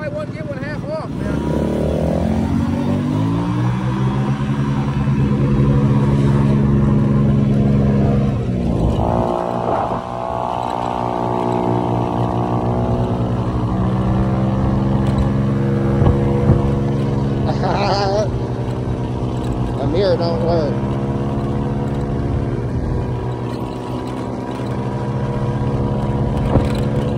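Scooter engine fitted with slip-on exhausts revs and idles continuously and loudly at close range, with pitch sweeps as the throttle opens, while people talk over it.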